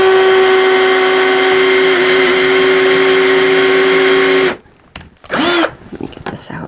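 A power drill whines at a steady high pitch while boring a drainage hole through a plant pot. It stops abruptly, followed by brief handling noises and a short burst of the drill.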